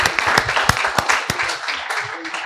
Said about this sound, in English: let us conclude the session with a big round of applause to the innovators that have made this thing